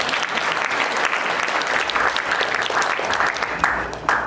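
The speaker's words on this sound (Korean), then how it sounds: "박수 치고 싶으면 크게 한번 쳐주십시오." Applause from an audience at a regional unification forum event in Incheon, a dense steady clapping that fills the hall continuously without a break.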